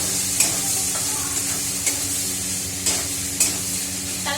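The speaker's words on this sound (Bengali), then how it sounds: "এই যে ছোলাটা দিয়ে দিলাম, আলুটা লাস্টে দেবো" Chickpeas fry in a pan with spices, stirred by a utensil that scrapes and clinks in a few sharp strokes over a steady close sizzle; no talking.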